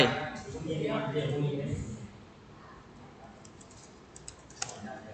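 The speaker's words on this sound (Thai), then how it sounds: "ตรงการพิมพ์รหัสผ่านเนี่ย เราพิมพ์ไปก็จริง" A password is typed on a computer keyboard. A voice talks at first, then a few soft, scattered key clicks follow, close by and quiet.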